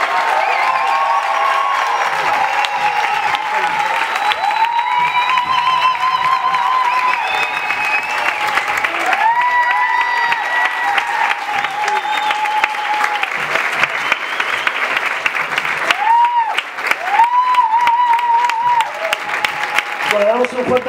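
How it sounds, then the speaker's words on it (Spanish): An audience at a panel event in La Plata gives loud, sustained applause, with scattered cheers and voices mixed through the clapping. "Aplauso a estas compañeras"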